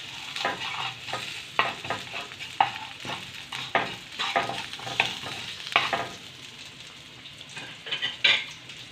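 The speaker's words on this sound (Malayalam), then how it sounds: "നന്നായിട്ടൊന്ന് ഇളക്കി കൊടുക്കാം" A spoon stirs a pappadam and crushed chili mixture frying in a pan, producing repeated scraping strokes over a steady sizzle, close and fairly loud.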